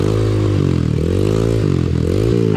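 A trail motorcycle's engine revs hard and close, pitch sweeping up and down in several quick throttle blips over a loud rattling idle.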